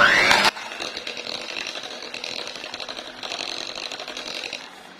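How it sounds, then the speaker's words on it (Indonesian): Electric mixer beating durian nastar cookie dough with powdered sugar, a short high whine at the start, then a steady low motor whir that rises again before fading. "baru kita hidupkan lagi mixernya"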